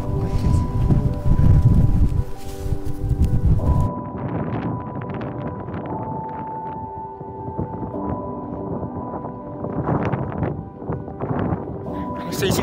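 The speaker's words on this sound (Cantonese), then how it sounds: "但係有好大風啊！" Strong wind buffets the microphone on a high Andean plateau near salt flats at about 4,300 metres by the Argentine border, loud roaring gusts at first, then easing to a lower rumble with more bursts later.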